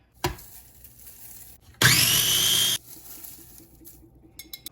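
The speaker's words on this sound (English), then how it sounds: "Just keep filling it and keep grinding." Kale is ground in a countertop grinder in a short, loud whirring burst of about a second, with quieter handling clatter before and after.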